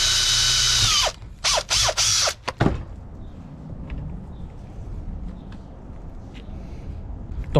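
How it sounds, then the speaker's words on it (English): A power drill boring holes to fit a fuel line bulkhead on a turbo Honda Element, heard as several loud close bursts in the first seconds, then a quiet workshop background. "grab my tools and get this all drilled out to install the"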